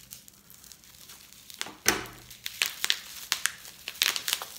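Plastic product packaging from a beauty subscription box crinkles and tears as it is cut open, close and fairly quiet, with a sharper rip partway through and steady crackling after.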